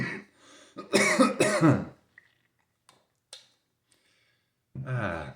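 A person coughs twice in quick succession, close and loud, followed by small clicks and quiet breaths, then a voice resumes.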